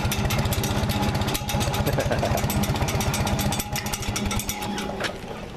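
An engine fitted with an H carburetor runs loud and close in a steady, rapid firing rhythm, then settles to a slightly lower, calmer idle partway through.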